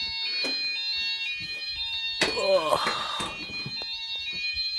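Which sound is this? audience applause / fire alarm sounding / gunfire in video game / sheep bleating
fire alarm sounding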